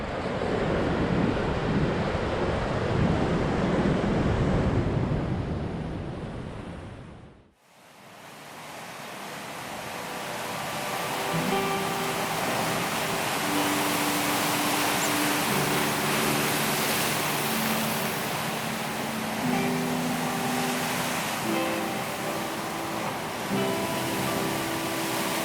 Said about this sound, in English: the waves are washing in around those